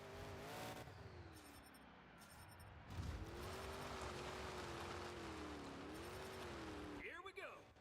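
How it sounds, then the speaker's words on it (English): The Excalibur monster truck's big engine drones and revs at a distance, its pitch rising and falling through a sustained roar amid a noisy arena crowd, with a brief surge near the end. "Excalibur fires up the engines."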